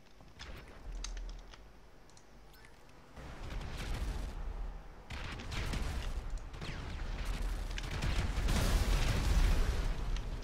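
Booming explosions from the game GTA 5 Online on PC, with a steady clatter of computer keys underneath, growing denser and louder toward the end.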